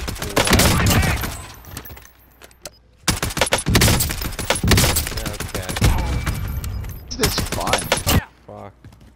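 Rapid bursts of automatic gunfire and explosions from the video game Warzone 3, loud and dense in several clusters with brief gaps, heavy thumps underneath.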